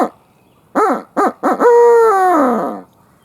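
Owl hoot locator call blown by a turkey hunter: a rising hoot, two quick hoots, then a long drawn-out hoot trailing off, loud and close, made with a hand-blown call imitating an owl.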